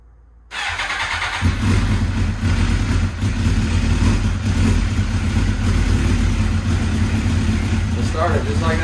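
A 2005 Suzuki GSXR1000 motorcycle that sat unused for eight years fires up after a moment of quiet, then runs loud and close with a steady rumbling idle and rising revs.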